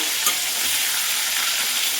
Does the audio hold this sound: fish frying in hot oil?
yes